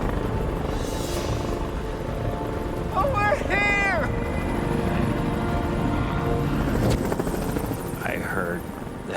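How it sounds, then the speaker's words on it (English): Rescue helicopters fly close overhead in the desert outback, giving a loud, steady rotor roar throughout. Someone shouts briefly over the engine noise. "I heard the helicopters come back. It was so loud, I knew they were so close."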